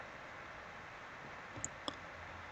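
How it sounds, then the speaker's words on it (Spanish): A computer mouse gives two quick, faint, isolated clicks near the end of an otherwise quiet stretch of low background hiss. "Y le vamos a dar clic a descargar."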